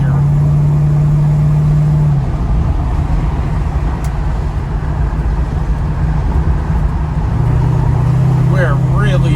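A 1968 Ford Mustang Eleanor kit car runs on the freeway, heard from inside as a loud, steady low engine drone with road roar that shifts in pitch partway through, while people talk faintly over it.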